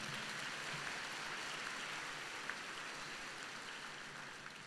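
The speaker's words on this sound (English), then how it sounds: "Graduates, let's give all those families and friends a round of applause for what they've done for you." Sustained applause from a graduation ceremony audience clapping for families and friends, a dense, steady wash of many hands at even loudness throughout, slightly distant and without distinct voices.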